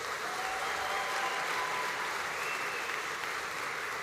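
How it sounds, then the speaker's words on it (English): A graduation audience applauding vet, food, fibre and animal industries graduates, a full, sustained roar of clapping from a large crowd, even and unbroken for four seconds. "Let's give all of our vet, food, fibre and animal industries graduates another round of applause."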